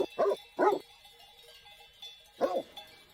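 Shepherd dogs with a flock of sheep in mountain pasture give three sharp barks, two close together and one after a pause, moderately near and alone in the quiet air.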